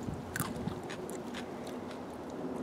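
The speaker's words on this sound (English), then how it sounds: "nice and crunchy. Listen to that crunch." Crisp bites into crunchy homemade vegetable chips dipped in guacamole, fresh from the garden, several sharp close crunches followed by chewing.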